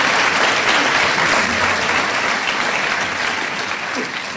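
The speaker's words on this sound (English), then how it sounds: "we could just give another round of applause to Katie, Jacob, and Taylor" Audience applause fills a middle school graduation ceremony, a dense, steady wash of many hands clapping together that holds strong for the whole stretch and eases slightly near the end.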